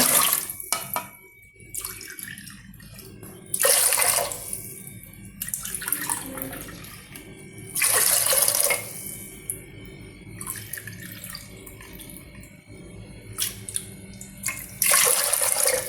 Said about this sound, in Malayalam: ഒരു നാല് കപ്പ് വെള്ളം ഞാൻ ഒഴിച്ചിട്ടുണ്ട്